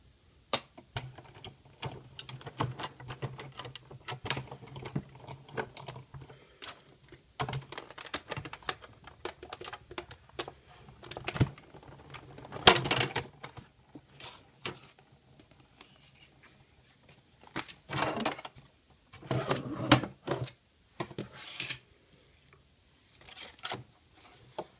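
A Big Shot die-cutting machine cuts a butterfly card, producing scattered close clicks and rattling taps in irregular bursts with quiet gaps between them.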